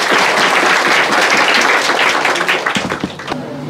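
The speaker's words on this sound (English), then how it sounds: "Give a huge round of applause for him." Loud audience applause in a school assembly hall as a teacher takes the stage, a dense burst of clapping that thins into scattered individual claps before fading out.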